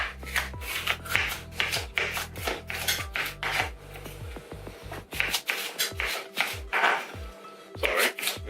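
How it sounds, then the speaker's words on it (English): A knife chops through a pepper on a cutting board in a home kitchen, with a steady run of quick, close knocks and scraping slices and brief pauses between strokes. "literally just cutting a pepper"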